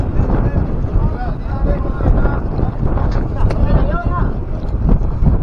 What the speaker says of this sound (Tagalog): tumira na naman yung habagat. Ang lakas ng hangin oh.